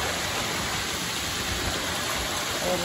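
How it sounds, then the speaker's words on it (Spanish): Water from a spring-fed pool at La Noria in Tanaquillo, Michoacán rushes steadily in a loud, continuous broadband roar like a small waterfall, with no pauses and no voices. "Litros y litros de agua corriendo."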